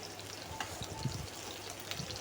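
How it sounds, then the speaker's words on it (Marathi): Onions sizzle steadily in hot oil in a kadhai, a soft, continuous crackling hiss with faint pops and no talking. "आता कढई ठेवली, त्याच्यात तेल गरम झालेलं आहे आणि कांदे टाकलेले आहेत मी."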